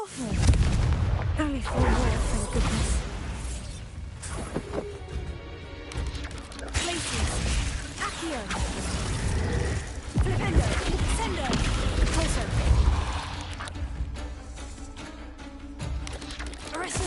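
Spell explosions from Bombarda and Confringo in the video game Hogwarts Legacy, with repeated loud crashing blasts and booms throughout a dense, busy battle mix while a person talks over them.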